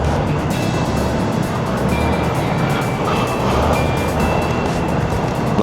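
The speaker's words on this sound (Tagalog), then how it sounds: "Sobrang traffic." Heavy traffic near a mega mall heard from a motorcycle, a loud continuous wash of engines and road noise with a faint beeping tone throughout.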